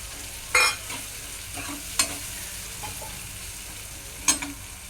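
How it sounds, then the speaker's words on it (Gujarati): Cut potatoes go into a pan with turmeric for batata poha, then get stirred: a soft sizzle underneath with three sharp scraping clacks of a spoon against the pan, spaced a couple of seconds apart. "હવે હું આમાં બટેકા કટિંગ કરેલા નાખી દઈશ"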